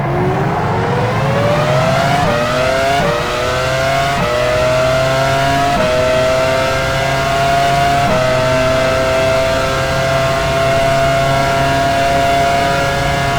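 An F1 car in the racing game F1 Challenge 99-02 pulls into the pits at the 2001 Canadian Grand Prix, its high-pitched engine whining steadily with a few sharp gear shifts and drops in pitch, loud and continuous with no talk.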